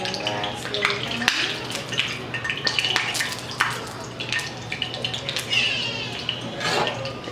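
A crab cake fries in cooking oil with a steady crackling sizzle, broken by occasional clinks and scrapes of a pan and utensils close by.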